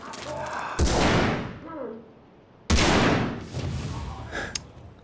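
Gunfire in a shooter video game: two loud, sharp bursts of shots, each trailing off into a decaying echo, with a smaller crack near the end and brief vocal sounds in between.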